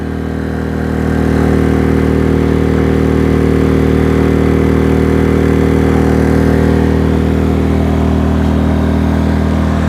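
Fishing boat engine on smart idle rumbles in a loud, steady, low hum that swells slightly after the first second and then holds constant, with no voices.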